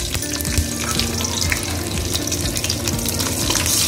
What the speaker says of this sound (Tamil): எண்ணெய் காஞ்சதும் அப்படியே வந்து இந்த கருவேப்பிலையும் சேர்த்துக்கிறேன். அதிலே பச்சை மிளகாயும் சேர்த்துக்கணும்